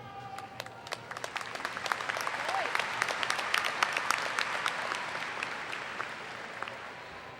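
Audience applause at a Ronald Reagan High School graduation ceremony, a dense sustained clapping from a large crowd that carries steadily throughout without letting up.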